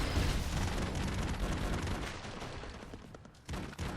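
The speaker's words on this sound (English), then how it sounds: "Now I have a machine gun." Rapid bursts of machine gun fire in a video game, dense and continuous at first, then thinning out toward the end, with loud, harsh crackling throughout and no voices.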